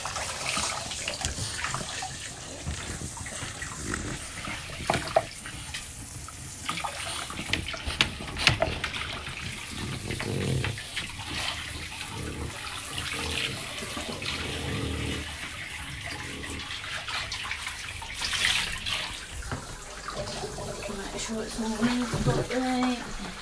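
Running water from a tap gushes steadily into a bathtub while a French Bulldog is bathed, with splashing and faint voices underneath.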